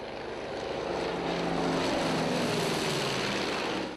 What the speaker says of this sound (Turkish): bir amfibik uçak ve 5 helikopterle müdahaleye devam edildi